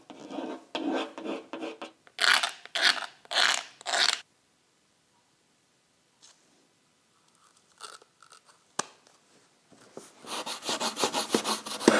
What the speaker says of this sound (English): Now deliberately rub it down so it's a bit lower than the surface, so you can put a thin skin of filler over the top.